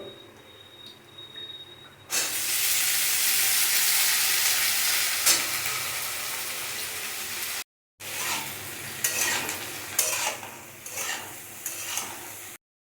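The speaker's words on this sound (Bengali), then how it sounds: "তেল গরম হলে আমি দিয়ে দিচ্ছি পাঁচফোড়ন কাঁচা লঙ্কা প্রথমে আলুগুলো ভেজে নেব" Potatoes frying in hot oil with five-spice seeds and green chilli, a loud sudden sizzle that stays steady for several seconds, then settles into softer frying with stirring.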